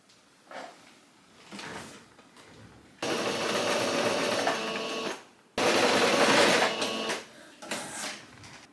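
A sewing machine stitches a garment cuff in two sustained whirring bursts of several seconds each, with quieter handling knocks and rustles of fabric before, between and after.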